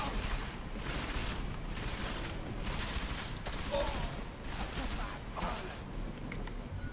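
Bursts of 10mm pistol gunfire from the video game Deus Ex: Mankind Divided come in a rapid series of broadband cracks over a dense, noisy game soundscape.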